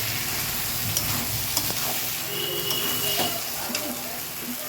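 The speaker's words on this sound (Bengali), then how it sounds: "আলু আর বুটটাকে সেদ্ধ করে রেখেছি, সেটা আমি এতে দিয়ে দিচ্ছি। দিয়ে আমি এটা সুন্দর করে কষিয়ে নেব আবারও।" Boiled potatoes and chickpeas sizzle as they are sautéed in fat in a pan for ghugni, a steady hiss broken by occasional spoon scrapes and light knocks.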